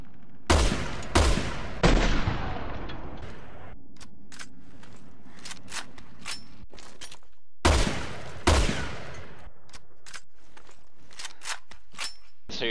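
An SVD Dragunov semi-automatic rifle fires in Resident Evil Revelations 2, with sharp, loud single shots in quick spaced bursts of three, each followed by a ringing decay, plus lighter clicks between.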